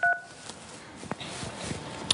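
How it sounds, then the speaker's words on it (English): Telephone being dialed for a live call on a TV show: a handful of separate touch-tone beeps in an uneven rhythm, clear against a quiet studio background. "My favorite part of the show, where we listen to the phone ring."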